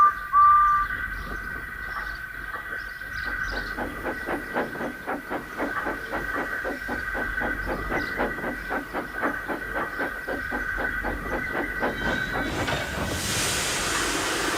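A steam locomotive puffs slowly into an engine shed with a steady rhythm of chuffs over a constant whistle-like tone, ending in a loud rush of hissing steam.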